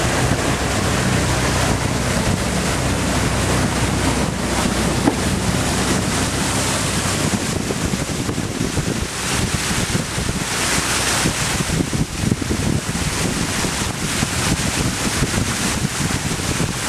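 A boat travelling on a river in Laos, heading to a cave, with a constant engine drone, rushing water and heavy wind buffeting the microphone throughout.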